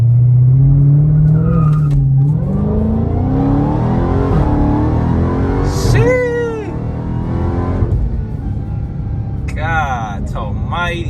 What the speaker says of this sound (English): activate launch control